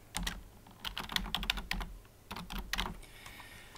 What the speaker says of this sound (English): And I've typed in the words Ringo DBC Technical